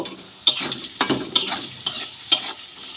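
A spoon stirs vegetables in a sizzling pan for semolina upma, with five or six rhythmic scraping strokes over a low frying hiss, close and clear.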